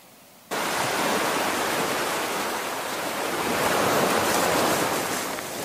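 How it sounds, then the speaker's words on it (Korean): Ocean surf washes onto a deserted island beach, a broad continuous roar of breaking waves that starts abruptly and stays loud and steady, swelling slightly midway with no voices. "여유가 생기니까 그제서야 파도 소리가 들렸습니다."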